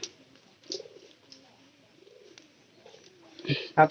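Pigeons coo faintly in low wavering phrases at close range, with a few sharp clicks and knocks near the end and a quiet background.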